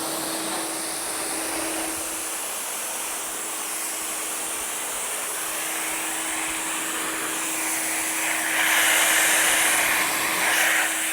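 A pressure washer rinsing soap off a car, making a steady broad hiss of spraying water with a constant motor hum beneath, briefly growing louder and harsher near the end.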